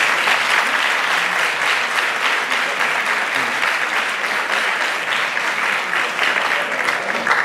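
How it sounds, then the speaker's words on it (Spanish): Steady, dense applause from an audience at the presentation of Laredo's 2024 Battle of Flowers festival, sustained and fairly loud throughout without pause. "fuerte aplauso para ellos"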